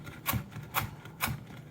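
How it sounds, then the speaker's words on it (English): A kitchen knife sawing back and forth through a carrot gives three evenly spaced rasping strokes, each a short crisp scrape with a soft thud beneath, close and fairly quiet with no talk. "I'm going to cut the carrot this way."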